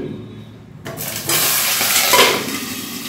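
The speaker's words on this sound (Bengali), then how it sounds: "এই যে পটলগুলো ভাজা হচ্ছে" Five pointed gourds (potol) frying in oil in a covered pan, a steady hiss and sizzle that rises suddenly and holds, with a faint clink of the pan.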